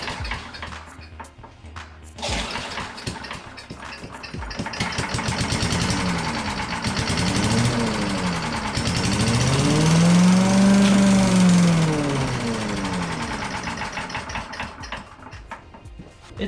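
A Tecumseh small engine cranks, catches and runs briefly, its sputtering drone rising and falling in pitch before dying away, loud and close with no talking.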